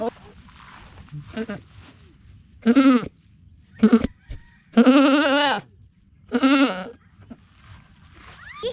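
Several loud goat bleats, each wavering and about half a second long, come in uneven bursts over a quiet outdoor background in the Philippines.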